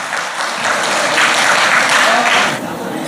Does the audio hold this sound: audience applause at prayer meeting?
yes